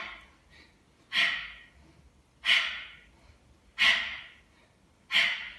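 Yoga breathing during a Yin class, heard as four sharp, breathy exhales about every 1.3 seconds, each a quick hissing burst that fades out, close and moderately loud over a quiet background.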